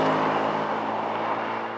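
A noisy car engine, a sports car on New Zealand's North Island, roaring steadily and close with a broad, rough drone that holds at one level throughout the short burst.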